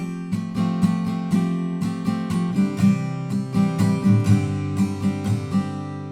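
Acoustic guitar strumming the opening chord line of a song, a steady strumming pattern of repeated strokes with clear ringing chords, played up close and alone without talk.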